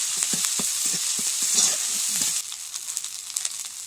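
Mustard paste sizzling and frying in a pan with ginger and cumin, a steady loud hiss with scattered stirring scrapes, quieting slightly partway through.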